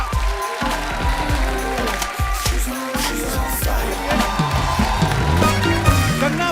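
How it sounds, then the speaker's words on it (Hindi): Loud studio-audience applause welcoming Kangana Ranaut onto The Kapil Sharma Show, a dense clapping wash mixed with a driving band tune and heavy drum hits that stays steady throughout. "कंगना के लिए जोरदार तालियां।"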